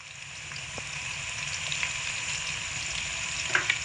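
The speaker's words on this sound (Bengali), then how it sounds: "গরম তেলের মধ্যে এবার কেটে রাখা আলুগুলোকে দিয়ে ভেজে নেব।" Sliced potatoes fry in hot white oil in a wok, giving a steady, close sizzle with a soft crackle throughout and a brief louder spatter near the end.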